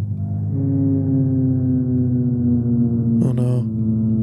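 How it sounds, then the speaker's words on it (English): A reconstructed Tyrannosaurus rex call rumbles as a deep, sustained, droning growl, loud and steady, with a brief rougher burst near the end. "this is the sound of a T-Rex"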